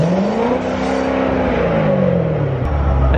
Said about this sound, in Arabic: راح اخليه يسمعكم صوت السيارة حاليا.